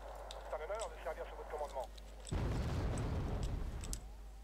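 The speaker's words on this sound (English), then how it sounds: "I'm taking mortar fire." Mortar fire lands in the real-time wargame Wargame Red Dragon, set in a Korean War scenario. Someone talks briefly first, then a sudden heavy blast breaks in and rolls on as a rough, broad rumble for almost two seconds.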